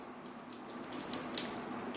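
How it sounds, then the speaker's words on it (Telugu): Water leaks from the back of a home water filter, heard as a faint trickle with a couple of soft drips in a quiet indoor room and no voices. "వాటర్ ఫిల్టర్లో నుంచి వాటర్ వస్తున్నాయని డాడీకి చెప్పు."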